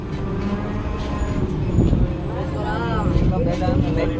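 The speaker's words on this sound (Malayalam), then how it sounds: "നമ്മൾ കയറി ബസ് ബാക്ക് എടുക്കുകയാണ്" A bus reversing on a hill road, heard from inside as a loud, rumbling diesel engine whose tone rises and wavers, with voices talking over it.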